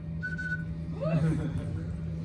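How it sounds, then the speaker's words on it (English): A tin whistle played outdoors on a woodland walk gives a few brief, thin high notes, one held tone followed by a short warbling phrase over a low steady background hum. "Tin whistle, this is a new addition to my"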